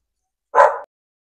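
A dog gives one short, loud bark, close by, with silence before and after.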